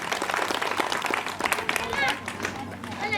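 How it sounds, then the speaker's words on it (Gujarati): An audience applauds at a civic water-network groundbreaking event in Bhavnagar, with a steady wash of clapping hands that stays fairly even throughout and voices underneath. "શ્રી ઉપેન્દ્રસિંહને એક વાર જોરદાર તાળીઓથી આપણે વધાવીએ."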